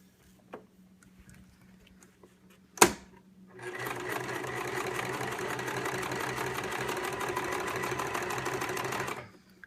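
After a sharp click and some quiet handling, a sewing machine starts stitching fabric in a steady, close, rapid whir for several seconds before stopping.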